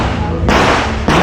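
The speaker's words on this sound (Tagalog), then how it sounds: "tingnan natin pumutok yung caliber 22" A .22 caliber firearm is fired at a shooting range, giving two loud, abrupt bangs about half a second apart, each with a sharp onset and lingering roar.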